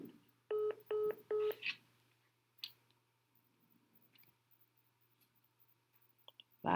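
A telephone keypad dials a call back: three short, evenly spaced DTMF tones, followed by a faint click and a quiet line hum.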